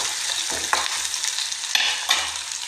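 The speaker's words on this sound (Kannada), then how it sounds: "ಇದು ಚಲೋ ತಂಗ ಮಿಕ್ಸ್ ಮಾಡ್ಬೇಕು ನೋಡಿರಿ" Shredded cabbage with curry leaves is stirred in a hot pan over a steady sizzle, a spoon scraping and tossing in several distinct close strokes.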